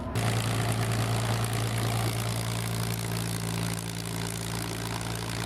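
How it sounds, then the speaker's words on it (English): P-51 Mustang taxiing to a parking spot at EAA AirVenture 2021: a loud, close, steady propeller engine rumble that holds even throughout, with no talk. "We spot this P-51 Mustang taxiing to a parking spot"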